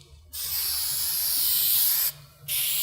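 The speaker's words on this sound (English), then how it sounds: "I'm going to actually spray paint the hood right now." Two long hissing bursts of a spray paint can coating a car hood, close and loud, separated by a brief pause.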